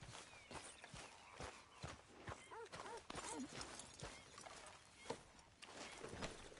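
A horse's hooves clip-clopping at a walk in the video game Red Dead Redemption 2, steady rhythmic thuds under a busy mix of game ambience with brief snorting sounds.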